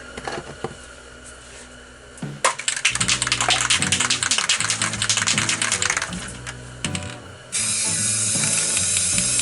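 A spray can lays clear coat over a spray-paint landscape painting. Loud, close hissing bursts run for several seconds, pause briefly, then start again.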